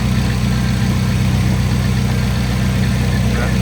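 A 1993 Nissan 240SX engine idles during a fuel pressure test, a steady low rumbling drone with even pulses, close and continuous with no talking.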